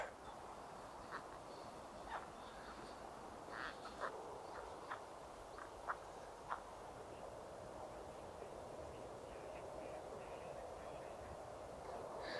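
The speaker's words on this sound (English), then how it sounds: "By the sound of them, I think a lot of them might be gadwall." Faint ducks call in the distance, with scattered quacks and short nasal calls over a quiet outdoor hum.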